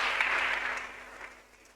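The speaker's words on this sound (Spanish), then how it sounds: "Démosle una ofrenda de aplausos al Señor" A church congregation gives a round of applause during a Spanish-language service, a bright steady wash of clapping that fades toward the end.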